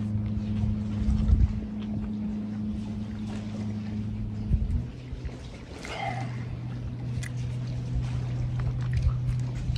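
A motorboat engine on Cranberry Lake drones steadily at low pitch, fading briefly midway before a second engine hum returns, with faint water and breeze in the background.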